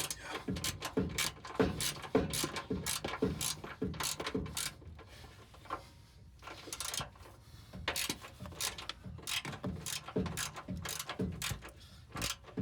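Hand ratchet clicking in rapid repeated bursts as it turns bolts while rock sliders are fitted to a 2018 Toyota Tacoma, close and crisp with short pauses between strokes.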